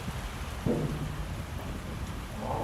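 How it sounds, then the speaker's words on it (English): Rain blowing in outdoors, a steady broadband wash of drops and gusts with a soft thump near the start, continuous and fairly close throughout. "The rain is blowing in, man."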